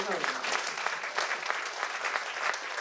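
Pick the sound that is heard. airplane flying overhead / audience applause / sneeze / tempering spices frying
audience applause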